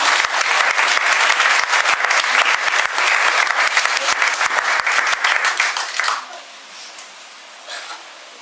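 A church congregation applauds in loud, dense, sustained clapping for about six seconds, then it drops off abruptly to a quiet room tone with faint stray sounds.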